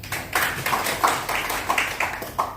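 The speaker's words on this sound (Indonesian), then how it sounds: "Tepuk tangan untuk media press" Scattered claps from a small group at an ITB STIKOM Bali event, about ten separate hits in an uneven rhythm, fairly close and moderately loud with no other sound.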